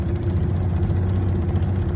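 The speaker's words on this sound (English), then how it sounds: "She's got that little 2-stroke stumble going on." A Yamaha two-stroke engine, its carburettor leaking oil, idles with a slight stumble. It gives a close, steady, low, buzzing drone with a faint uneven pulse throughout.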